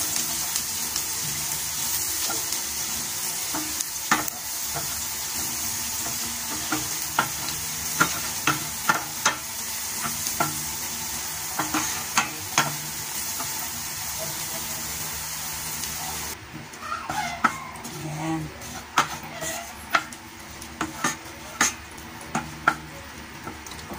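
Butter and garlic sizzle in a pan while a utensil stirs and scrapes, making repeated sharp clicks over a constant frying hiss that softens toward the end.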